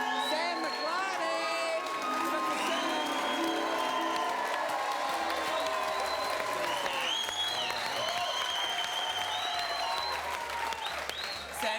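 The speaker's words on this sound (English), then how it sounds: "we need a big round of applause" A studio audience at a football TV show applauds continuously, a dense, steady round of clapping with some cheering, close and sustained throughout.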